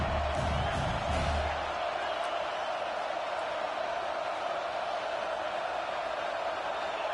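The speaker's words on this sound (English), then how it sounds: "Crowd trying to make a difference here on fourth down." Stadium crowd in a college football video game on fourth down, a steady loud roar with a few thumps and whoops near the start, continuing evenly throughout.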